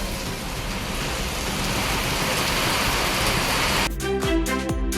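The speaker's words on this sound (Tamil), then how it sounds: "தருமபுரி மாவட்டத்தில் கோடை வெயில் வாட்டி வதைத்த நிலையில் பல்வேறு இடங்களில் மழை பெய்தது" Summer rain pours in Dharmapuri district, Tamil Nadu, as a dense, steady hiss of falling drops, joined near the end by a brief, pulsing tonal sound.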